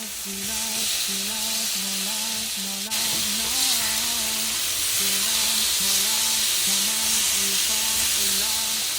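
Pork loin chops sear in a hot pan with a steady, loud sizzle, while a melodic tone repeats in the background throughout.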